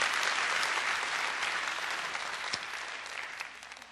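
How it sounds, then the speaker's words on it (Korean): A lecture audience at the Sebasi talk series claps together in a loud, sustained, even burst of applause that tapers off slightly over a few seconds. "한번 박수 한번 쳐주시죠."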